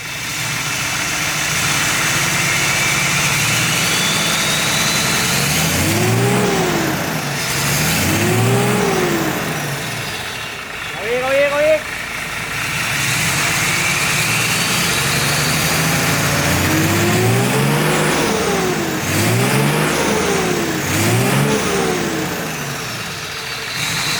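A Nissan CW454 truck with a JO8E 260 hp diesel engine idles loudly up close, then revs in several rising-and-falling bursts, with a pause midway before more repeated revs.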